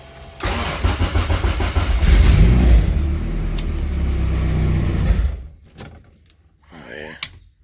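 Turbocharged Honda Civic with an H2B engine cranks and fires, then runs loud and rough close by for several seconds before cutting off, followed by brief clicks and a short voice.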